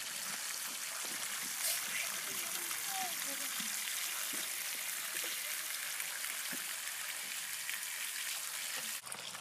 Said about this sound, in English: Here's our example of our heavy rain.